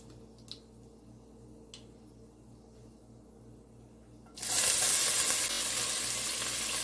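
Fenugreek seeds, chilli and chopped onion hit hot oil in a pan for sambar and burst into a loud, steady sizzle after a few seconds of near quiet with faint ticks.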